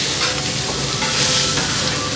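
Goat trotters (paya) being pepper-fried in a pan at a street food stall in Thanjavur, with a steady loud sizzle and the scrape of stirring running throughout.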